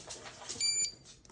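Kitchen timer giving a brief electronic beep, a high steady tone lasting under half a second amid quiet room noise, then a soft knock.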